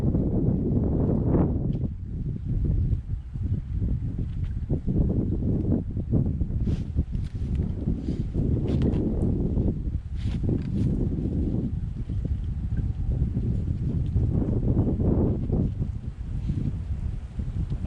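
Wind blowing outdoors on a cold day during the first snow, a loud continuous low rumble buffeting the microphone with gusty swells and faint rustling.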